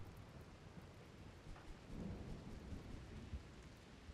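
Rain patters steadily in a video game while a low rumble of thunder swells and rolls through the middle, all at a faint, distant level.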